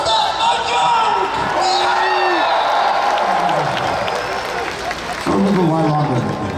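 Large festival crowd at a concert in Parc Jean-Drapeau, Montreal, claps and cheers loudly, a dense roar of applause with scattered shouts, while a voice speaks over it.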